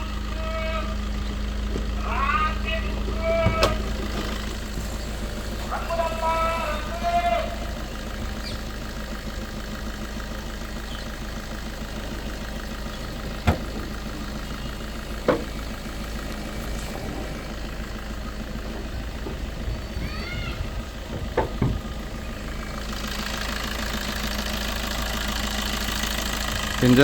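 A 2017 Maruti Ciaz diesel engine idles with a steady low hum and a faint knocking beat throughout. Scattered clicks and clunks sit on top, and a voice speaks intermittently over it.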